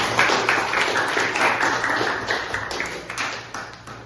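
A seminar audience claps for the Indonesian language in a series of fairly close, rhythmic hand claps, with a steady low hum underneath.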